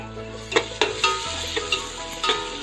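Two teaspoons of ginger garlic paste sizzle with onions in a hot pan for a tomato chicken dish, as a spoon scrapes and stirs in a handful of distinct strokes over the steady frying hiss.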